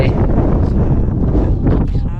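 Strong wind buffeting a microphone outdoors in Bolungarvík, northwest Iceland, a loud continuous rumbling roar with gusty swells, with people talking underneath it.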